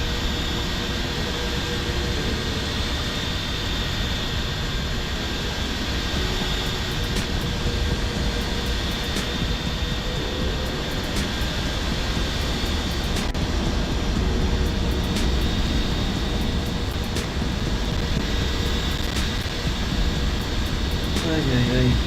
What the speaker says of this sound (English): god, those engines are super loud